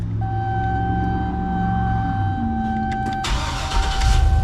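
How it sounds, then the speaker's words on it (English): A truck engine cranks and turns over, settling into a loud, close idle with a steady rumble and faint electronic chimes. "We will start the truck."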